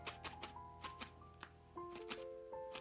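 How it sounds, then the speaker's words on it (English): A felting needle stabbing into wool while shaping a small penguin Christmas ornament: quiet, crisp, irregular pokes, about a dozen in quick succession, over soft tonal background music. "needle felt through the other side all across the top"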